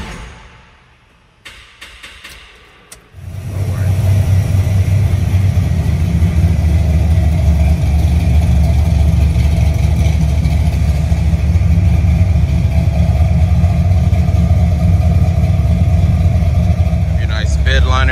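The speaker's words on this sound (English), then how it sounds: "You can hear that 383 just poking away there." A 1978 Chevrolet Silverado C10 with a 383 V8 settles into a loud, steady, rumbling idle after a few seconds of quieter handling noises, holding a continuous low burble to the end.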